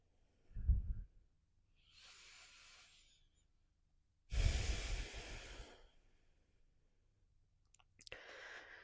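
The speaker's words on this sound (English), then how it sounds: "Just hang, breathe in and out of your nose." Slow breaths drawn in and out through the nose during a stretching pose, a few soft, airy inhales and exhales with quiet gaps between them, close and faint, with no talking.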